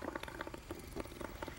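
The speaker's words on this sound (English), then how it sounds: "While I build up some bubbles in our soap solution" Methane gas bubbling up through a soap solution, a close, steady stream of soft wet gurgles and small popping bubbles with a busy, irregular patter and no voices.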